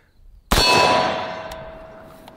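A single sharp metallic clang as a round from an AR-15 chambered in a stouter caliber strikes a steel target, ringing out loudly and decaying over about two seconds with no voices.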